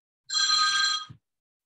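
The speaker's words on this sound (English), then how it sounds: "That's my phone going off," A mobile phone goes off during a symposium talk, giving a single steady electronic ring of just under a second. It stands clear and alone, ending in a faint thump.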